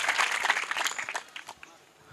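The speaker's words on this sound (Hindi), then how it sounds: "यीशु मसीह के लिए तालियां बजाओ जिसने उसको हिम्मत दी ताकि वो बोले" A church congregation applauding during a sermon, a brief burst of crowded clapping that is loud at first and then thins out and fades within about two seconds.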